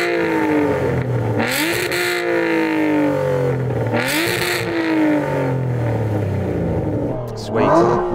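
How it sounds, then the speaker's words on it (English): Aston Martin sports cars, a Valkyrie, a Vanquish and a V12 Vantage at a drag race, rev their engines in three loud, close bursts. Each rises sharply and falls back to a rumbling idle, with a brief voice between them. "Okay, let's do a sound check. Go on, rev yours up."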